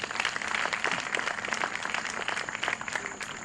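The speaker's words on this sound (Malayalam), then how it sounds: "നല്ലൊരു കൈയടി കൊടുക്കാം." An audience applauds St. Antony's Latin Choir of Panangad, a dense, even patter of many hands clapping at once, moderately loud and steady throughout.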